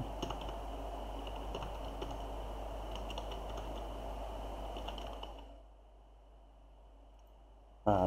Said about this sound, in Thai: ผมจะพิมพ์ชื่อผม